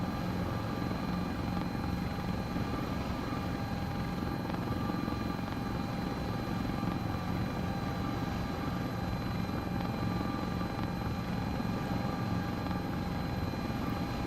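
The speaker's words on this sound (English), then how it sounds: "I'm sure the hospital loves 130 mile an hour flyby." EMS helicopter passing at about 130 mph, a steady loud rotor and turbine roar that holds constant throughout with no pauses.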